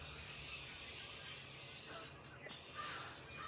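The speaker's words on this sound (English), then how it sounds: "I want to take a second and pause for 10 seconds for you to hear all these birds." Crows and other birds calling around a suburban back porch, faint scattered caws over a soft outdoor hiss, heard from some distance with no one talking.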